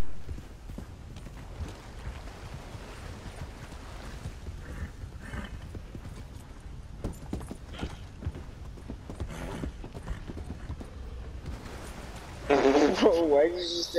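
Horse hooves clip-clop steadily in a video game as the horse approaches, a rhythmic mid-level clatter running under players talking, with a louder burst of other game sound near the end.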